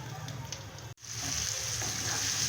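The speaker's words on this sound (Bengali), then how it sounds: "টমেটো নরম হয়ে গেছে আর পেঁয়াজটাও নরম হয়ে ভাজা হয়ে গেছে।" Tomato and onion frying in a covered pan, a steady close sizzle that cuts out for a brief instant and then returns louder and brighter; no voices.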